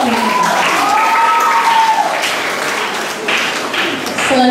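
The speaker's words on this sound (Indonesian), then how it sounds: "Kita berikan aplaus yang meriah" Loud audience applause fills a hall after an entry in a school language-month speech contest, steady clapping throughout with a faint voice briefly over it.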